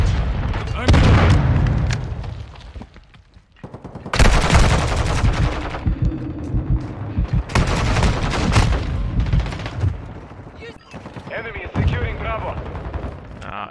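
Blasts and heavy gunfire from a team-based video game match as a Semtex grenade goes off, loud bursts with booming impacts and rapid shots over a dense battle din, with a player's voice talking over it.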